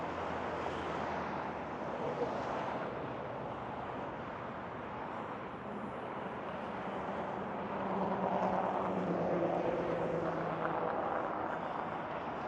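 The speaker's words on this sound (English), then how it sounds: "you can hear the amount of traffic that goes down here" Steady suburban street traffic in Las Vegas on a hot morning, a continuous broadband wash of passing cars that swells louder toward the end, with no talking.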